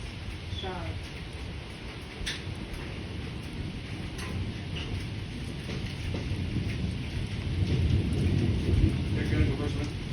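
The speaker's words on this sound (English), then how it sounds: "Definitely a tropical storm, I think." A tropical storm brings constant heavy rain hissing on surfaces, while deep thunder rumbles and grows louder toward the end, with voices faintly mixed in.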